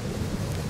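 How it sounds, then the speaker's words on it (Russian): Low thunder rumbling in the Firewatch video game, a steady, dense wash of deep noise filling the whole moment with no talk over it. "А что за гром-то гремит?"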